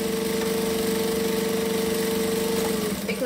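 A home sewing machine stitching fast on a fabric tote bag handle, a steady, close mechanical hum with rapid regular pulsing that runs evenly and then tapers off at the end, no talk.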